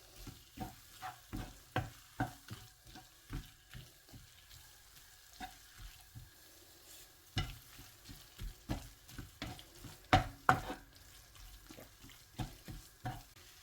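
Chili and turmeric powder frying in a pan, stirred with a spoon that scrapes and taps the pan in quick irregular strokes over a low sizzle, close and fairly quiet, with no voices.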